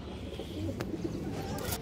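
Pigeons coo softly and close, low throaty calls rolling on with a couple of brief clicks between them.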